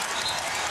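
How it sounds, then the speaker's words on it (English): Basketball arena crowd applauding in a standing ovation for Allen Iverson, a brief, dense wash of clapping and cheering from a large audience. "Standing ovation for Iverson."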